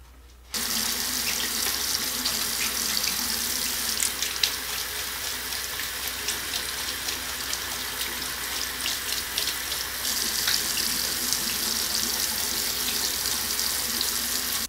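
Steady running water from a tap as a makeup brush is wetted under the stream, starting abruptly after a brief quiet moment and flowing loudly and continuously with small splashes throughout.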